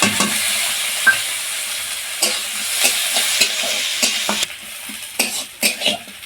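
Whole cumin, chopped onion and green chili sizzle and fry in white vegetable oil, with a steady hiss broken by repeated scraping spatula strokes, close and fairly loud.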